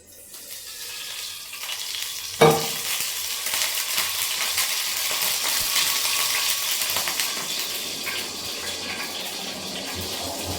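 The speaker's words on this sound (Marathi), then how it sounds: "मी आत्ता जिरा आणि मोहरी या तडका देते" Cumin and mustard seeds sizzle in hot oil for a tadka tempering, opening with a sharp pour-like splash then a steady, close crackling fizz that continues throughout.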